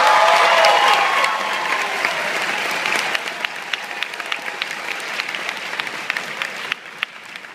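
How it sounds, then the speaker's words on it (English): A film premiere audience claps loudly, a dense burst of applause at first that thins into scattered, sharp individual claps as it fades. "So you cannot start this movie without a big round of applause for David Toohey."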